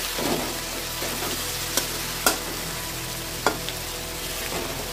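Onion, garlic and tomato with turmeric stir-frying for a jackfruit chicken curry, a constant loud sizzle with a few sharp spatula knocks against the pan, no voices.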